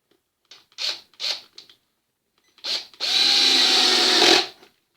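A small electric drill spins up against leather during leatherwork, first with several short whirring bursts, then a pause, then one sustained high grinding run of about a second and a half before stopping; close and clear with no talking.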